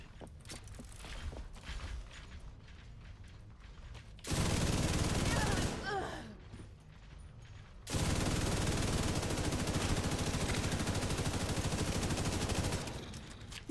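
MG5 machine gun fire in a video game rattles out in two long sustained bursts, loud and close, separated by quieter mechanical clatter and game noise.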